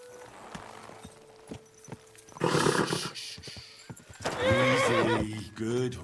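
A horse in Kingdom Come: Deliverance 2 whinnies loudly twice in close succession, with hoof clip-clops and brief game chatter beneath in the early part.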